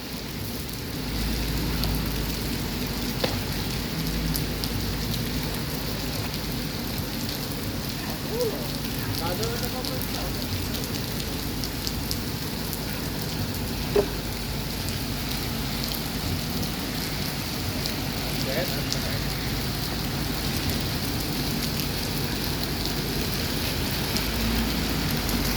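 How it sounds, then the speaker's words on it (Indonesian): Steady rain falling at the Alang-Alang Lebar bus terminal, a continuous, even hiss with occasional faint drips and knocks throughout, fairly soft and without breaks. "Kondisi terkini lagi hujan di terminal."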